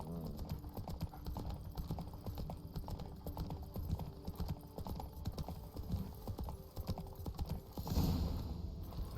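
In The Witcher 3: Blood and Wine, Geralt's horse Roach gallops with fast, continuous hoofbeats in a steady rhythm, close and prominent throughout, with no talk over it.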